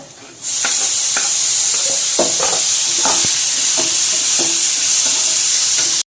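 Tomato pieces sizzle loudly in a hot pan as dal is cooked, a steady bright hiss kicking in after a short quiet start, with intermittent stirring scrapes and clacks throughout.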